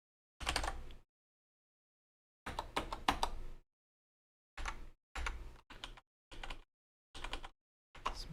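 Computer keyboard keys clattering in separate bursts of rapid typing with pauses between, some runs longer as if keys are held down, close and fairly quiet with no talk.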